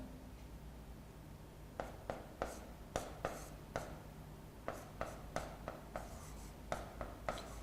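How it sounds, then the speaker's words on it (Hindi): Marker or chalk taps and strokes on a board during a physics lecture, a quiet run of short irregular knocks and scratches in bursts, with no talking. "यहाँ पे लिखता हूं मैं"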